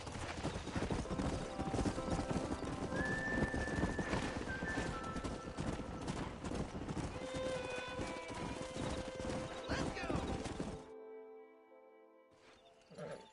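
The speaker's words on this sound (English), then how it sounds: "We got some fine horses." Several horses clip-clop and neigh in the video game Red Dead Redemption, with loud hoofbeats pounding continuously and whinnies rising over them before the sound abruptly drops to near silence.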